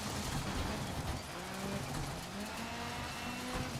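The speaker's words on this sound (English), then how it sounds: "You can just hear the boost and all that, man, going on in the engine, the mud underneath the car." A loud, steady revving race car engine in the video game Dirt 5 drones continuously with boost and a gritty, rumbling texture of mud underneath.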